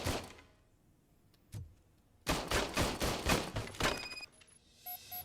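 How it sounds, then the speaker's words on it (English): An old service gun fires in a video game: one faint shot, then a rapid string of loud, close shots in quick succession, followed by quieter mechanical clicks. "I was issued this old gun and serviced it according to the manual. I will try it out."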